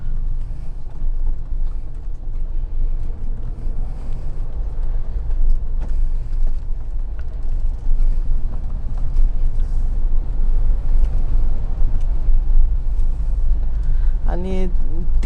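A Mahindra Thar drives through heavy monsoon rain in Hinjewadi, Pune, with steady loud road and rain noise throughout and a brief horn-like tone near the end.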